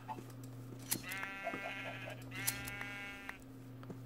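Sheep bleating in the video game Minecraft: two drawn-out, wavering bleats in a row, clear and fairly close over a steady low electronic hum, with no voices.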